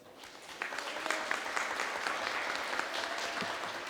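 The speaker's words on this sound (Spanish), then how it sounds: "le demos un fuerte aplauso a mi coordinador de la bancada, Reginaldo Sandoval." An audience at a labour-themed course or political gathering breaks into sustained applause, a dense, steady clapping that swells quickly and holds for several seconds at moderate distance.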